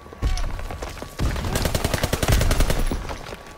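Grease gun submachine gun fire in Call of Duty WW2 multiplayer: a sharp opening shot, then a steady rapid burst of close, loud automatic rounds rattling off in quick even rhythm.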